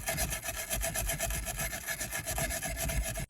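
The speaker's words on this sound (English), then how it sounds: "I need to use this wire brush and scrape the paint off there" Rapid, steady back-and-forth scraping of a wire brush removing paint from metal, harsh and gritty, continuing for a few seconds close by.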